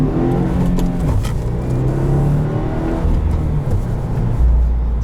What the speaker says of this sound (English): I didn't mean to pop the clutch, it just engages really, really suddenly.